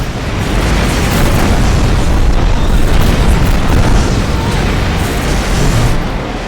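Incoming missiles explode against a spaceship in the space combat video game Rebel Galaxy, producing a heavy, continuous booming roar that swells for several seconds and then eases off slightly near the end.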